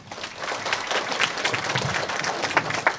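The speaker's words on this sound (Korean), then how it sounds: "큰 박수로 맞아주시기 바랍니다." Applause from the audience at a university entrance ceremony as the dean is welcomed to the podium, a dense, continuous patter of many hands at moderate distance, lasting a few seconds.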